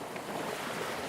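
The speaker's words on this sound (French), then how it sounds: "Vous pouvez très bien entendre les bruits des vagues" Ocean waves wash onto a beach in a soft continuous rush heard from the shore edge, fairly faint and steady, with a light wind noise mixed in.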